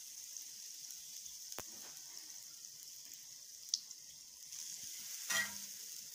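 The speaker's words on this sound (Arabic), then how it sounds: "نزلت كده بمعلقة صغيرة من الزبدة نشوح اللحمة المفرومة" A small spoonful of butter sizzles faintly in a pan before minced meat goes in, producing a quiet, steady hiss with an occasional light tap of a utensil.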